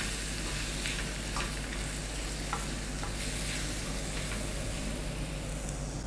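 Turmeric, red chilli powder, hing, amchur powder and tomato puree sizzle and fry in a pan for Achari Baingan, a steady close crackle broken by occasional scraping stirs of a spoon.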